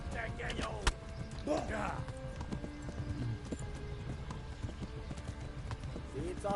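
Rhythmic clip-clop of hooves at a steady gallop in Kingdom Come: Deliverance, fairly close, with a brief horse whinny early on and some game background noise.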